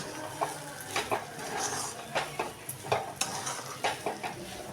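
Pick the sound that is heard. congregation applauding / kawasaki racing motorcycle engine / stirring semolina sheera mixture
stirring semolina sheera mixture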